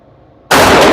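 A single loud, close pistol shot from a Canik TTI Combat cracks out at a range, abruptly breaking a near-silent pause.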